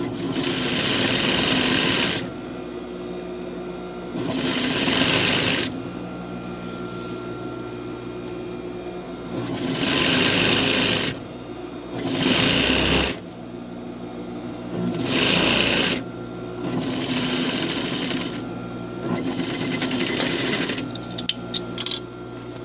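A sewing machine stitches a skirt seam a centimetre from the edge, loud and close, running in several steady bursts with short pauses between them.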